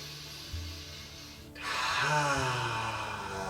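Slow, deep breaths are taken during a guided healing exercise for immune support: a long, close inhale swells into a loud airy exhale that rushes on steadily.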